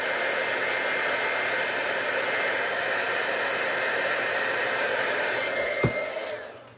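A heat gun runs steadily while heat embossing a card, a continuous loud broadband blowing hiss that holds for several seconds before a brief click near the end.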